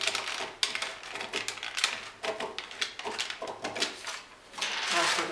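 Scissors cut along the curve of a paper trouser pattern in a run of rapid crisp snips and paper rustles, close and fairly loud, with a soft voice briefly underneath.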